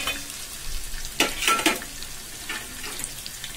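Onion, potato and drumstick sautéing in a pan for a fish curry, a steady soft sizzle broken by a few louder stirring scrapes, close and alone without speech.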